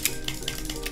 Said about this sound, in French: le clavier fait pas mal de bruit évidemment